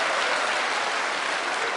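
A church congregation claps along as a pop song is sung during a sermon, giving a dense, even wash of applause from many hands that fills the whole moment with no voices on top.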